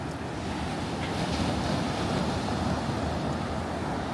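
Ocean waves on a beach by a condo, a steady loud wash of surf with wind rushing across the microphone, continuous and without voices.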